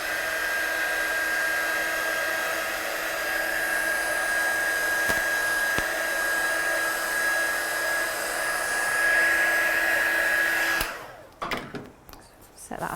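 A hair dryer blows steadily at close range to dry a stamped watercolour Christmas card, a continuous whine with a thin steady tone that holds for about eleven seconds and then cuts off, leaving a few soft handling sounds.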